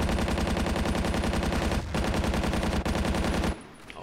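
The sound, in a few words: sidearm gunfire in a video game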